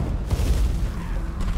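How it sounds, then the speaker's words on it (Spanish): A summoned explosion in World of Warcraft: Battle for Azeroth, heard in Nazmir as a dense low rumbling boom that holds steady and loud through the short moment, without speech. "Es que invocando explosión."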